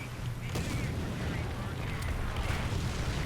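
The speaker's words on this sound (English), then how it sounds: "Artillery's incoming." Distant artillery booms land amid constant battle noise in the War Thunder tank game, with sharp blasts near half a second and two seconds over a dense rumbling din.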